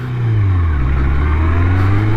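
A Honda CB750 Nighthawk motorcycle's exhaust drones steadily and loudly up close, a deep engine note holding and rising slightly as the bike is ridden, with no voices over it.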